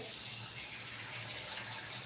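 Water runs steadily into a cooking pot for a vegetable dish in a home kitchen, a continuous even splashing gush with no talk over it.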